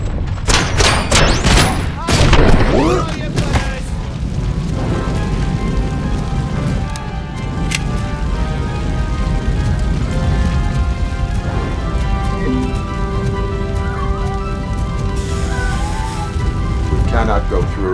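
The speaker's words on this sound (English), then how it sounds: "Fire is blocking the way." Fire burning in RoboCop: Rogue City gives a steady, dense crackling roar that fills the whole stretch, with a few heavier thumps near the start.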